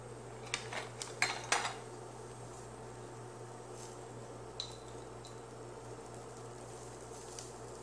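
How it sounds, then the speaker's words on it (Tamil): Fenugreek seeds dropped into hot oil in a pan: a few sharp clinks and rattles early on, then a faint steady sizzle under a low kitchen hum. "இப்போ நம்மளுடைய வெந்தயத்தை போட்டுக்கோங்க"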